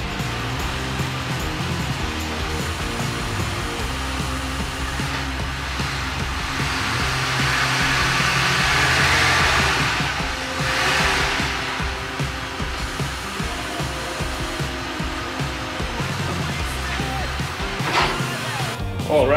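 Four-wheel-drive car pulling off a lift, giving a steady broadband engine and drivetrain rumble that swells midway and then settles, heard alone without talk.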